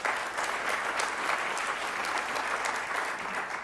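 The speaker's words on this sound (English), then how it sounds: "There's always time for applause." Steady, dense audience applause fills the room at a political tribute event, a continuous wash of many hands clapping at even loudness throughout without a break.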